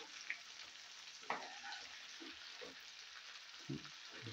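King fish (vanjaram) slices frying in oil in a kadai, a soft steady sizzle with occasional sharper crackles and light clinks of a utensil, heard alone without talk.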